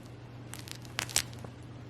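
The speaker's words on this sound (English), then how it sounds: "the inside does have Velcro, so it's a lot easier to put on" Velcro on a Happiest Baby swaddle sleep sack being pulled open: a few short, quiet ripping bursts over about a second, close by, against a low steady hum, with no talking.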